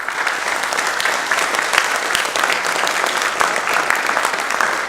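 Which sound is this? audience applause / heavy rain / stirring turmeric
audience applause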